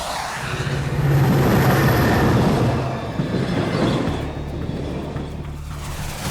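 A cartoon train travels along the rails with a steady, rumbling roar that swells and then eases, with no talking.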